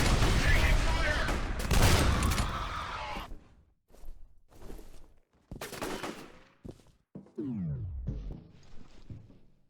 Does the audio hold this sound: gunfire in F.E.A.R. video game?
yes